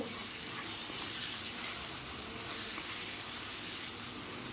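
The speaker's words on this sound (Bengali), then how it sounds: "অল্প একটু মশলার জল দিয়ে একটু নাড়িয়ে নেব।" Tilapia curry sizzles in a pan as a little spiced water is added and stirred, giving a steady, dense hiss with a watery bubbling edge that runs unbroken and fairly close throughout.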